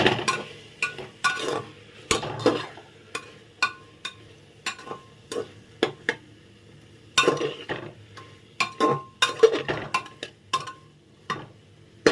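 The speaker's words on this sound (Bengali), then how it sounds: "এবার এটাকে ভালো করে নাড়িয়ে ছড়িয়ে নেবো।" A spoon stirs mung dal in a pressure cooker, giving irregular metallic scrapes and clinks against the pot in steady bursts with brief gaps, close up and with no voices.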